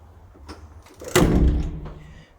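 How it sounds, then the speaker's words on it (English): A door at the Northumberland Telescope swings shut with a single solid thunk, preceded by faint handling noises and followed by a short fading rumble. "Now we close this door."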